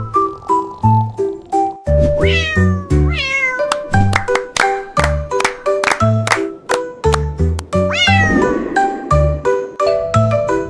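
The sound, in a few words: cat meowing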